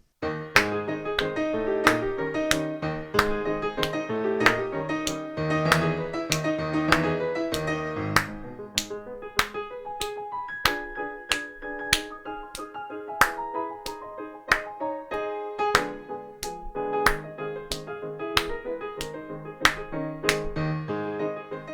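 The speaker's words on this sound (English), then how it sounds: "Let's clap the pulse of a piece in 2/4." Hands clap a steady pulse in 2/4 time, crisp evenly spaced claps sounding clearly over a played musical piece, with no talk throughout.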